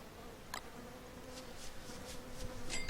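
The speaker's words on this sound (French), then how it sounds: "Elles sont insupportables ces abeilles." Bees buzzing in the survival video game Don't Starve, a steady insect drone that grows slightly louder toward the end, with a few brief higher chirps and no talking over it.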